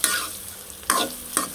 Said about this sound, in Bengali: ঝটপট করে এই সয়াবিন গুনে ভেজে নিলাম